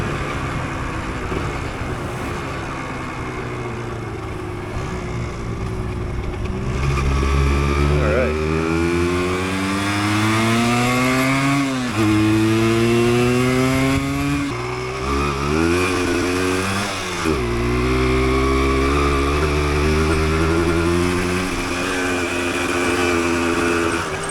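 A 1988 Yamaha DT200 two-stroke motorcycle on a test ride: a loud, buzzing engine rising and falling in pitch through repeated revs and gear changes, with steady wind rush throughout.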